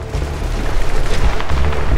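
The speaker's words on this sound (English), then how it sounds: "More gunfire. I hear it." Gunfire in the video game Homefront: dense, loud bursts of rapid shots and low booms rattle in a continuous volley, close and without speech.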